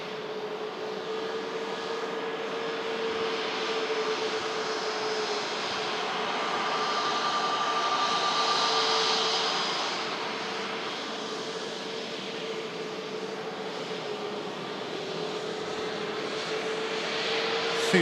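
A Jet2.com passenger jet at Manchester Airport roars steadily, its engines carrying a sustained whine and tonal hum that swells gently mid-way and stays continuous, fairly close, with no talking.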